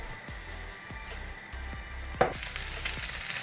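Meat frying in a pan for bigos, a steady hiss of sizzling broken by a few sharper crackles and clinks near the end, close and moderately loud throughout.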